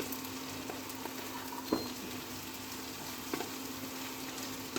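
Chopped capsicum, beans and carrot fry in a pan, giving a soft, steady sizzle with a couple of brief clatters as ingredients are moved about, faint and without talk.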